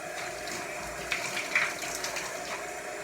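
Shower water running steadily while shampoo is rinsed out of hair, a constant hiss with a few brief splashes, close by.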